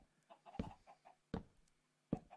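Chickens cluck in a modded Minecraft Bedrock Edition map, with three short clucking bursts spaced apart and softer clucks between them, faint and unaccompanied by talk.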